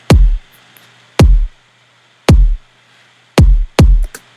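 Punchy drum hits run through a limiter in FL Studio, with a booming kick landing hard and loud: five heavy, evenly spaced thumps with sharp attacks, each decaying quickly, alone with no talk.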